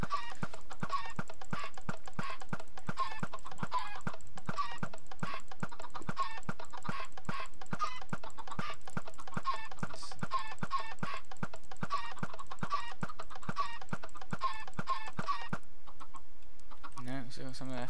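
Repeated clucking from a flock of chickens in Minecraft, a steady stream of short clucks over about fifteen seconds with a burst of other game noise near the end.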